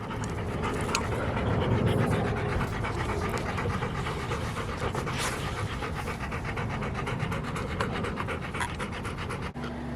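Dogs pant rapidly and steadily close by after a trip to the park, a continuous rhythmic huffing that fills the whole stretch with no talk.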